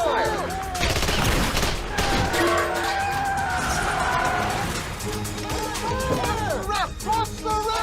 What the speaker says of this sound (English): Get up there! Open fire!